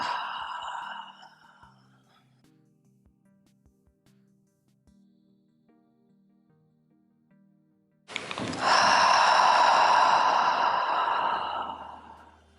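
A slow exhale during a gentle evening yoga session ends softly in the first second, then quiet follows with faint low rustles. A long, loud, close breath out rises near the end and lasts several seconds before fading.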